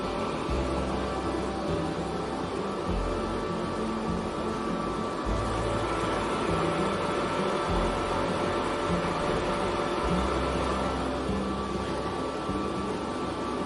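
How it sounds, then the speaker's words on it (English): An automated orbital weld head runs a sheet-metal weld, giving a steady, continuous mechanical hum and hiss at constant level for the whole stretch, with low pulsing rumble beneath and no voices. "Let's go ahead and take a look at the weld being performed."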